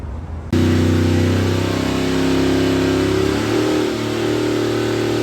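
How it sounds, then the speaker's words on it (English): A Jeep engine starts abruptly after a brief silence and then revs loudly and close by, holding a steady roar that rises and falls slightly, with no talk. "I can barely start the car."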